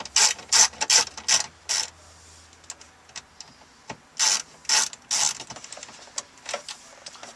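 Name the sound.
Phillips screwdriver removing screws from Jeep Liberty stereo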